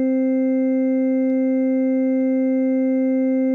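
A steady, pure FM synthesizer tone held without change, several stacked sine oscillators humming together at a constant level, with a couple of faint clicks.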